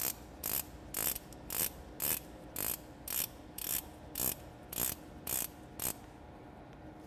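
Locking pawl on an aircraft engine's oil scavenge filter bowl, ratcheting over the bowl's teeth in about a dozen crisp, evenly spaced metallic clicks, close and isolated against a quiet background.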